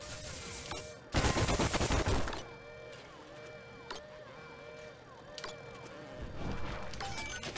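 Enemy gunfire in BioShock 2 Remastered's Minerva's Den, a dense loud burst of rapid shots for about a second, then quieter mechanical game ambience with a few sharp reports and renewed firing near the end.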